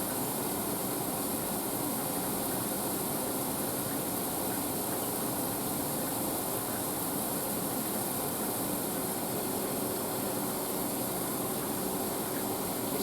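A grinding machine polishes a metallographic sample on 800 grit, giving a steady, even whirring hiss that runs unbroken and close for the whole stretch, with no talking.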